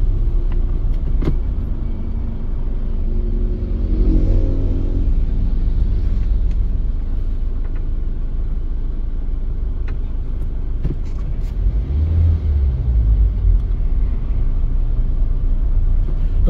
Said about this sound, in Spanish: aquí el tráfico, como ustedes pueden ver, aquí es un poco lento